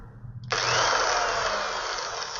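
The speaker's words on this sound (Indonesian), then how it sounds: "Kita bor dulu segini" A power drill drilling into a helmet whirs to life abruptly after a quiet moment, running at a steady high-pitched whine with slight pitch sag, loud and close.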